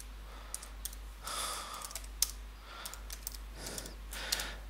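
Computer keyboard typing a search entry in OrCAD PSpice circuit simulation software: quiet, irregular keystroke clicks, some slightly louder taps, with no talking.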